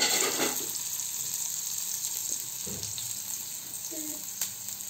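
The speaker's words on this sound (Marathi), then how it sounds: "तर आता आपण त्याच्यामध्ये लसूण टाकू, बारीक चिरलेला कांदा" Garlic and finely chopped onion sizzle and fry in hot oil for an okra and potato dish, a steady broadband crackle with a brief stirring clatter partway through, close and continuous with no talking.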